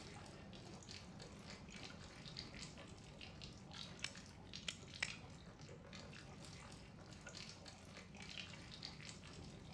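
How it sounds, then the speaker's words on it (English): Steady broadband hiss of a shower running in Resident Evil 7, with a low rumble underneath and a few sharp clicks near the middle, continuous and fairly faint throughout. "we gotta shut this shower off"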